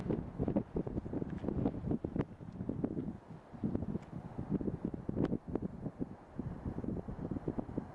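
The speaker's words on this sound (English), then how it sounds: "Just 60 mile an hour gust." Strong wind gusting at around 60 miles an hour across a canyon rim in the Black Canyon of the Gunnison, a loud, continuous roar of buffeting microphone noise with surging peaks and no talking.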